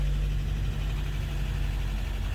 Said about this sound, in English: you're gonna hear this engine kind of ugly sounding